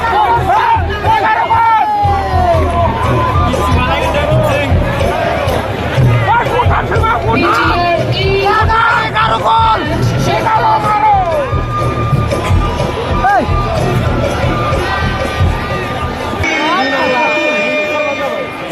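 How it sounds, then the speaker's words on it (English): A large crowd cheers and shouts at a football match between Bodoland and Chakma Mizoram, with whoops, children's shouts and loud babble running continuously, voices talking over the din. "Huge round of applause."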